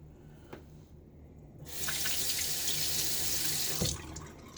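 Bathroom tap turned on for a final rinse after a shave, a steady hiss of running water that starts partway through and continues close by.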